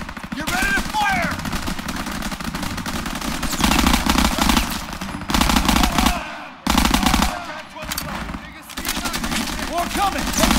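Machine guns fire continuously in a World War II battle in the video game Call of Duty WWII, dense rapid bursts layered with explosions and shouted voices, loud and close with brief pauses.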